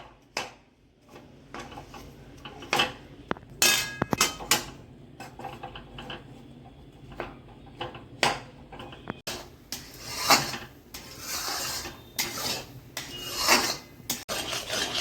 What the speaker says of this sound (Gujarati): તાવેથા વડે આવી રીતના ગોળ ભાંગી નાખી